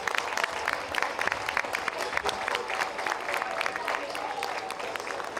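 A crowd applauds continuously, a dense patter of many hands clapping throughout, moderately loud and steady.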